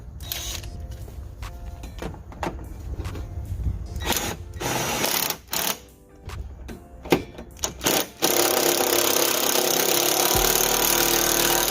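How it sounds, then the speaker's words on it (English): A 5/8 or 16 mm socket runs a bolt down on a Dodge Magnum rear shock absorber, giving rapid, close ratcheting clicks in bursts with short pauses, then a steady loud whirring hum at the end. "Now you can get your 5/8 or 16 mil socket and just run it down the rest of the way."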